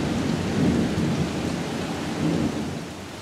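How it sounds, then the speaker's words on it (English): Heavy rain hisses steadily over a garden while deep rolls of thunder swell and fade twice, close and fairly loud, with gusts of wind mixed in. "getting some wind, getting some lightning and thunder"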